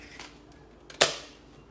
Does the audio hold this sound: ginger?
no